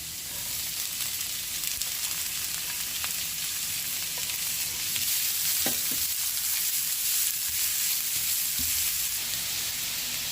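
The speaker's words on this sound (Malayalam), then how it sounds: "ഗാർലിക്, നല്ല ഫൈനായിട്ട് ചാപ്പ് ചെയ്ത് ഗാർലിക് ഇട്ടിട്ട് ഒന്ന് സോട്ട് ചെയ്യാം" Finely chopped garlic and onion sautéing in a pan, giving a steady, loud sizzle and crackle that runs continuously throughout with occasional faint stirring.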